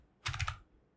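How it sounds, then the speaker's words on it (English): A quick burst of several close keystrokes clicks on a computer keyboard as a book ID is entered, crisp taps packed into about half a second. "let me just type in some book ID"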